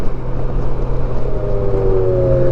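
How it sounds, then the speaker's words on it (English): An automatic-transmission vehicle engine cruises steadily, a rising tonal whine suggesting an upshift near the end, loud and close with no talking. "Now I'm just going to upshift and just kind of cruise."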